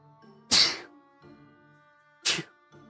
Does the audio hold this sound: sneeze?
yes